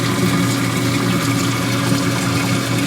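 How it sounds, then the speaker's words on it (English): Water flows steadily across the screen of an LED algae scrubber on an aquarium, a constant close rushing wash with no gurgling. "Doesn't have a big gurgle. And you can see the water is flowing across the screen."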